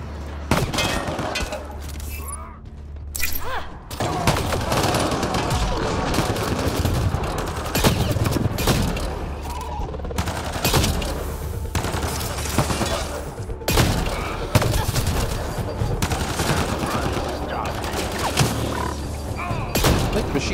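Sustained bursts of machine pistol fire in the Mass Effect Andromeda video game, dense and rapid, mixed with impacts and thuds over a continuous loud game soundscape.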